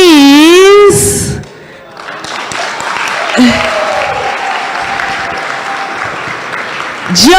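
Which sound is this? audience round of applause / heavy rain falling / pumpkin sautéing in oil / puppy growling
audience round of applause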